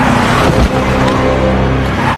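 A car engine drones loudly and steadily, with a heavy low rumble and a brief surge near the middle, as a driver flees a hit-and-run on a mayor crossing the street in a dramatic film scene.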